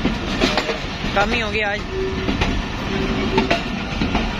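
Karakoram Express passenger train running on the rails between Lahore and Faisalabad, a steady rolling rumble with faint clatter heard from on board, with people talking over it.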